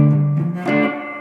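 Electric guitar with a distorted, slightly reverberant tone sounds a low note, then slides up into a ringing triad chord that sustains and fades, close, with no talking.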